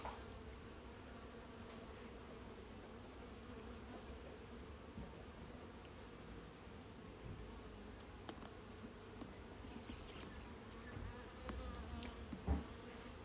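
Honey bees buzzing on frames lifted from a long mini nuc during a hive split, a dense steady hum close by, fairly faint, with occasional knocks of frames, no talk.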